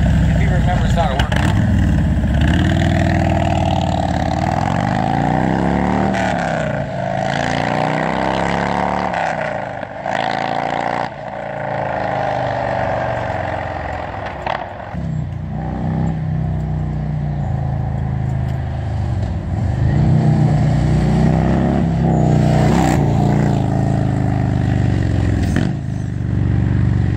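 A 2017 Harley-Davidson Milwaukee Eight motorcycle with Toxic Outlaw slip-on exhaust rides down the road, its engine rumbling steadily and loudly for the whole stretch, rising and falling as it revs through gear changes.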